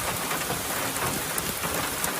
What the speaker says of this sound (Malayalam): റിയാദ് പ്രവിശ്യയിൽ അൽ ഖസീം റൂട്ടിലും മജ്മയിലും ശക്തമായിരുന്നു വൈകുന്നേരത്തെ മഴ.